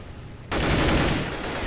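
Rapid automatic gunfire from a Counter-Strike: Global Offensive match bursts in loud after a short quiet lead-in and keeps going as a dense, continuous volley.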